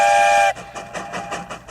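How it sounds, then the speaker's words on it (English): A train whistle blows loud and steady, followed by rhythmic clacking of a train's wheels on the rails, played as a sound to guess in a children's library storytime game. "Train, just like from last week's story time."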